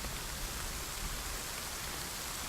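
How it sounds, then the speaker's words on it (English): Steady rain falls in the survival video game The Forest, a soft continuous hiss of drops that stays even and fairly quiet throughout, with no talking. "now that it's raining, I'm going to go over this way"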